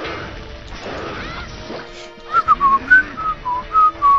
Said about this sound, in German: wenn ich nervös bin, muss ich mal pfeifen